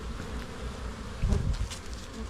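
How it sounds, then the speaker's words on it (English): Honey bees in January buzz steadily at the hive entrances as they fly in and out on orientation flights, with a louder swell of buzzing passing close by midway. "we do see bees at every entrance coming in and out"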